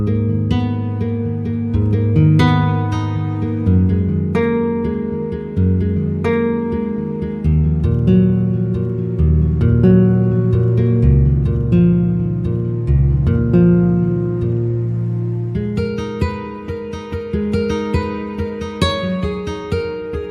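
Heavyocity Foundations Nylon Guitar virtual instrument on its default patch: nylon-string plucks and arpeggiated notes over a warm, dense synthetic pad layer, full and continuous for the whole stretch, with no talking.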